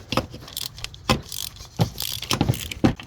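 Wrench loosening bolts on an Infiniti power steering pump in the engine bay, a few sharp metallic clanks and rattles at irregular intervals, close by, no talking.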